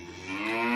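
A big pregnant farm cow gives a single short, loud moo close by that rises in strength.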